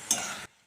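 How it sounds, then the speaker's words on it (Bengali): A pan of bottle gourd cooked in mutton fat with green chili gets a single quick stir, a close, brief scraping rustle that stops abruptly. "দিয়ে একটু নেড়ে দেবো।"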